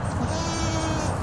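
Goats bleat loudly and close in a cemetery, a sustained wavering cry filling the whole moment.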